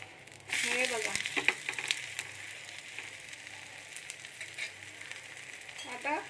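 A bajra (pearl millet) dosa cooks on a pan over low heat, giving a soft, steady sizzle with a brief louder crackle near the start and faint scraping touches, quiet and close.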